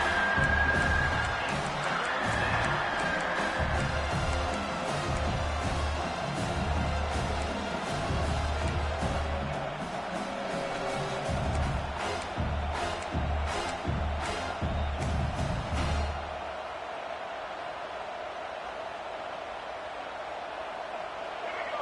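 A football stadium crowd roars steadily throughout, loud and continuous, with a play-by-play commentator talking over it before the noise drops away near the end.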